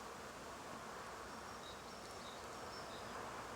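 Honeybees buzzing around an opened hive during a spring apiary inspection, a faint, steady, continuous drone with no talking over it.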